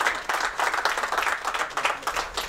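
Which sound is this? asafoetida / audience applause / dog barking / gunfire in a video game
audience applause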